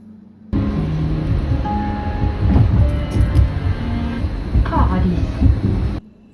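A Bergen Bybanen Line 1 light rail tram running between stations, with a steady rolling rumble and occasional clicks and squeals throughout, loud and close as if heard from on board.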